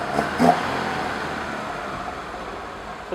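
A 1968 BMW 2002 engine fitted with Dellorto carburetors runs steadily at a close, even idle, with a couple of soft bumps at the start and no voices.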